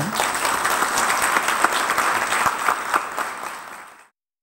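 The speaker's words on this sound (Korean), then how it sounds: "다 같이 한번 박수로" Audience applauding for a 91-year-old grandmother's award at a Korean ceremony: steady, dense clapping from a sizable crowd, even and sustained, fading out near the end.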